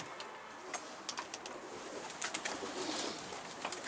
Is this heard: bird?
yes